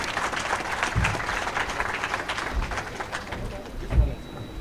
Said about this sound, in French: Encore des applaudissements